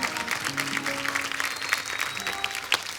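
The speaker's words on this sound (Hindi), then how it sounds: "जोरदार ताली एक बार फिर से" Studio audience applause on The Kapil Sharma Show, a dense steady wash of clapping that carries through to the end, with faint background voices underneath.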